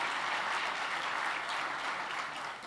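Applause from an audience at a business awards event in Chile, a steady, fairly distant clapping that fills the whole moment without speech.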